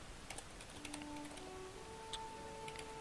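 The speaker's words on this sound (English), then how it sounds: "you're going to type in your account name" Light, quick keystrokes on a computer keyboard typing an account name at a game login screen, a scattered run of soft clicks over faint background tones with no voice.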